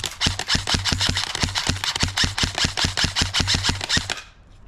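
Airsoft gun firing on full auto outdoors in a garden: a fast, steady stream of sharp, close pops for about four seconds, then stopping abruptly with no talk.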